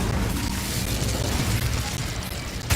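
An Incendio fire spell cast in Hogwarts Legacy, a loud, roaring whoosh of flame that fills the whole stretch with steady rushing noise and a sharp pop near the end.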